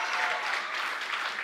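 Warm audience applause for twelve student participants at a regional oratory contest in Darién, a continuous, even wash of clapping from a crowded hall.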